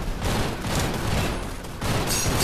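Grenade launcher in the video game Gun Raiders firing in a dense, rumbling burst of explosive booms that blend into a continuous barrage with brief dips.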